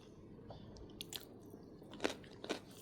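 A person eating a home-cooked meal, quiet close chewing with a few soft crunchy bites and wet mouth sounds, faint and intermittent.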